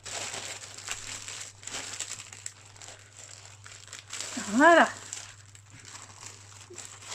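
Paper crinkles briefly near the microphone, a short burst of rustling between quiet stretches, with a person speaking softly around it.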